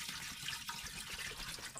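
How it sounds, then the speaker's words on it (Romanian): Water pours into a pot meant for boiling potatoes, a brief, faint, steady splashing fill with no pauses. "ca să putem pune apă să fiarbă cartofii"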